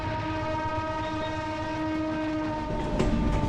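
A train sits at a station and hums steadily with a sustained horn-like drone, close and fairly loud, with a rumbling swell near the end.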